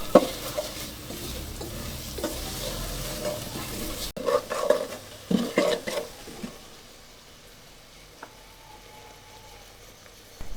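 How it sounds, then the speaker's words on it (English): Pounded peppercorns and garlic are stirred into a pot with pork belly. Close spoon scrapes and clinks sit over a soft sizzle, and the sizzle fades to a quiet simmer toward the end. "you can subsequently put in the pounded comport pepper and garlic into the pot and continue stirring them for about 20 seconds"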